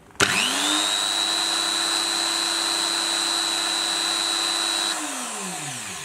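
An electric drill machine on a current test starts with a sharp click, spins up to a steady loud whine for about five seconds, then winds down as it cuts off.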